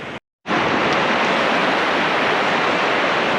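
Swift river water rushing steadily and loudly close by, a dense continuous roar after a brief silent gap at the start, with no voices.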